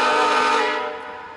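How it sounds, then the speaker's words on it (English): Horn of VIA Rail locomotive 87, a single sustained blast at moderate volume that tapers off and fades over a second and a half, quieter than before, with no talk. "Now the horn's rather quieter."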